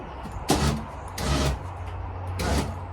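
Renault van door being pulled shut in three tugs, each a brief broadband scrape and clunk, moderately near, with quiet background rumble between and no speech.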